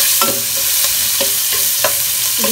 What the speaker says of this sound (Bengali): ভিতরে আমি পেঁয়াজগুলো দিয়ে দেবো।